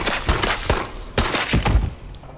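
Shotgun blasts in a horror-style video game come as a rapid run of loud, close booming shots with clattering impacts, about six bursts in a couple of seconds, with no talking.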